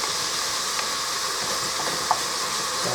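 Ground sirloin browns in olive oil in a pan with a steady broad sizzle, a couple of faint utensil taps poking through, and no talk.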